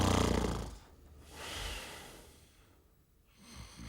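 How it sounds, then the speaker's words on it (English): Habitual snoring from a sleeper, heard as a few slow, breathy rasping inhalations and exhalations close by, rising and falling in a loose rhythm with quieter gaps between breaths. "This pattern of snoring is referred to as primary or habitual snoring."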